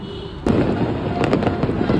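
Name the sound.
New Year's Eve fireworks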